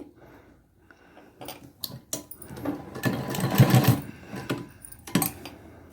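Sewing machine stitching curved neck piping in short stop-start bursts, with a faster run in the middle, close and moderately loud, with no one speaking.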